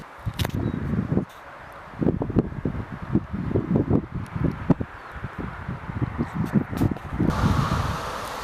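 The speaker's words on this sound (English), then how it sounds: "assuming the wind isn't destroying this scene" Wind buffeting a microphone outdoors beside the A9 road near an old 1930s concrete bridge, heavy low rumbling gusts that come and go in bursts throughout.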